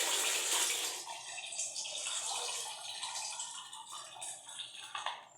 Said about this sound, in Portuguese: Vou descartar a água do alface.